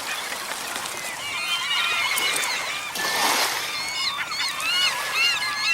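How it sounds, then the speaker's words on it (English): A crowd of seagulls squawks and cries continuously near the water while feeding on dumped salmon guts and fish parts, many overlapping calls rising in a busy, loud chorus with no talking. "Quite the seagull fest down here."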